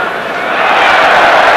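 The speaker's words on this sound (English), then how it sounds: "Every touch from the French side gets a lusty cheer." A stadium crowd roars at the 1995-96 UEFA Cup third-round match between Lyon and Nottingham Forest, a loud, dense wall of cheering that swells and fills the whole moment.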